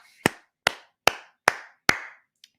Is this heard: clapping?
yes